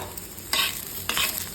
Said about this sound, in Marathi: इकडे मी हा कांदा असा भाजून घेतेय